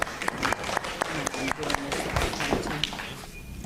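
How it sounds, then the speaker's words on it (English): Sparse, scattered claps from an audience at a tribal general forum gathering, a thin patter of hands that stays under a voice talking throughout. "applause, everybody, please"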